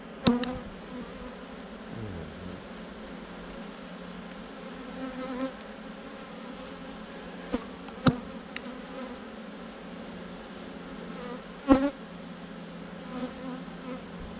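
Honeybees buzz in an opened hive on a winter day, a low, steady hum that fills the whole stretch with a few brief sharp knocks, close by and with no talking.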